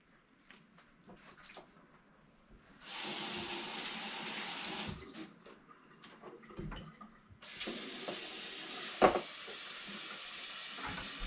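Water runs steadily from a tap into a container being filled to soak herring, a close hissing splash that starts, stops and resumes in long bursts.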